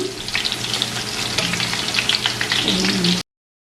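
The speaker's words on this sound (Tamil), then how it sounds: "இந்த வெங்காயத்தை வந்து கோல்டன் ப்ரௌனாக பொரிச்செடுப்போம்" Shallots deep-frying in hot oil for a Sri Lankan fried katta sambal, a dense, steady crackling sizzle heard close up and unbroken for about three seconds before cutting off abruptly.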